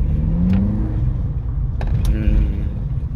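A 2020 VW Polo GTI engine hums and rumbles steadily in sports mode with a rising rev midway, heard from inside the cabin, with a couple of brief clicks.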